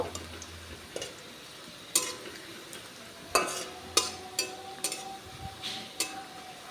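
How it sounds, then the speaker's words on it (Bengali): Onions frying toward light brown for a moong and masoor dal, a soft sizzle punctuated by several sharp clacks of a spatula against the pan at uneven intervals. "এগুলো আমি ভেজে নেব পেঁয়াজটা হালকা ব্রাউন কালার করে ভেজে নেব"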